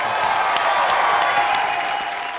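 A studio audience at a live comedy show applauds loudly and steadily, a dense wash of clapping with some crowd cheer that fades slightly toward the end.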